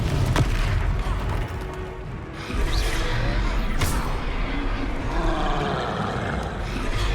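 Fiery Confringo spell blasts from Hogwarts Legacy, a deep roaring boom with a sharp crack, heard close and loud over sustained rumbling battle noise.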